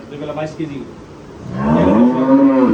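A Holstein Friesian dairy cow at a farm lets out a loud, close, drawn-out moo, preceded by a shorter lowing sound.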